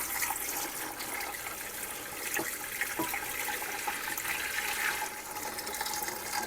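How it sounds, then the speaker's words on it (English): Water runs steadily from a tap into an electric pressure canner, a continuous broadband rush of pouring and filling that holds fairly constant throughout, with no talking. "So right now I'm just filling up some water."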